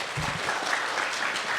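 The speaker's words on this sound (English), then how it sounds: "That was like a polite clap" Polite audience applause at a convention Q&A panel, a moderate, even patter of clapping from a crowd that holds steady throughout without cheering.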